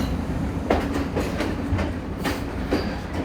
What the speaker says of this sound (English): And the train's just pulling in beside us now, so Megan's keeping her head right in.